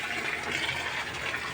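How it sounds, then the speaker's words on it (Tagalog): Water streaming through an aerator, a continuous soft rushing and bubbling hiss, fairly faint and steady throughout with no voices. "Yan yung aerator natin. Yan, may papasok na tubig and then may palabas."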